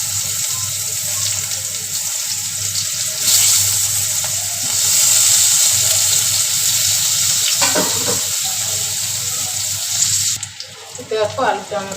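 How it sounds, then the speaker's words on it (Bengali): Potatoes frying with salt and turmeric in oil in a kadai give a loud, steady hiss for about ten seconds, ending in a few scraping clatters. "লবণ আর হলুদ দিয়ে আলুটাকে ভেজে নিচ্ছি"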